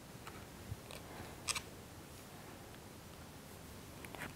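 Faint scissor snips cutting a small piece of cardboard, trimming the hair of a modeling-clay figure, with a few scattered short cuts against a quiet background.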